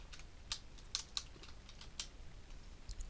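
Computer keyboard typing: quick, irregular keystrokes, close and fairly quiet, in a near-silent room with no talking.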